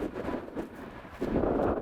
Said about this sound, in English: this is an extremely windy day